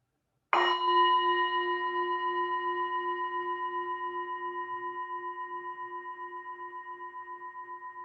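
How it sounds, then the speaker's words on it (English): A single bell is struck once to open a breathing exercise in a tai chi class, a clear metallic strike followed by a long ringing tone that slowly pulses and fades over several seconds, heard alone without talk. "So I'll ring a bell."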